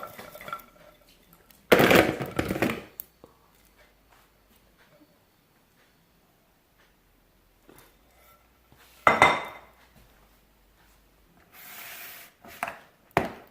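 Hot wings are tossed in sauce in a bowl, giving sporadic clinks and scraping knocks of utensil against dish, separated by long near-silent pauses.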